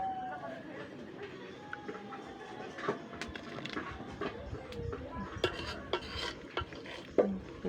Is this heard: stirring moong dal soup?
yes